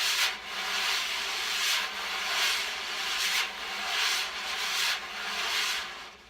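Wire jazz brushes sweep across a drum head with a rolling wrist motion, giving a soft, breathy swish. The swish rises and falls in regular strokes, close and fairly quiet, with no voices.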